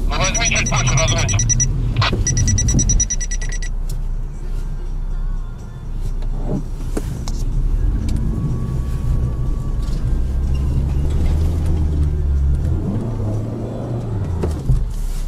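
A car engine revs and strains as the driver tries to accelerate on frozen ground, a loud, sustained rumble that rises and falls. People talk over it throughout.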